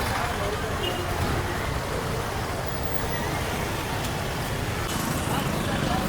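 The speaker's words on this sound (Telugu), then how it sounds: "భయంకరమైన ట్రాఫిక్." Dense road traffic near Madurai's Meenakshi temple forms a steady roar of passing vehicles and engines, with a faint murmur of voices mixed into the noise.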